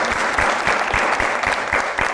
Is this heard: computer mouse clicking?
no